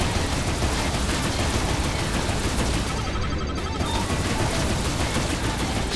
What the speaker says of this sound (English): Don't start shooting me, bitch.